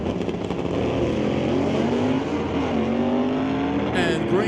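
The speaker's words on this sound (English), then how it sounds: "Chevy Camaro versus a Ford Comet." A Chevy Camaro and a Ford Comet revving hard on a drag strip, engines droning loud and steady with rising whines, as an announcer talks over the noise.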